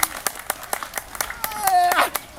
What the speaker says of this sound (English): that's clapping to get the thing up here